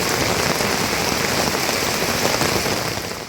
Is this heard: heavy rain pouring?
yes